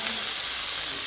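A T-bone steak sizzles in a hot pan, giving a steady, loud broadband hiss with no break for about a second and no voices over it.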